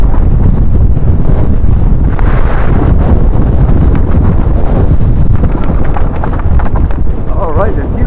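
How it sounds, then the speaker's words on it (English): Loud, continuous wind buffeting the microphone while mountain biking down the Twitcher and Castle Black trails at Glentress, a heavy roaring rumble that drowns out most other sound. "It is a trifle windy"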